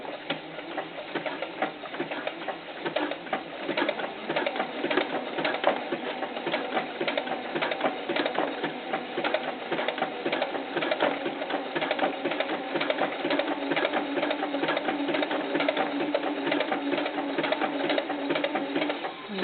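A sewing machine stitching knit doll tank top fabric runs steadily throughout, its fast rhythmic mechanical ticking close and constant with no voices.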